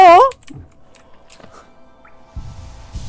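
Scattered computer keyboard key presses during PC gaming, a few light clicks after a brief vocal sound, then a short cluster of louder taps near the end.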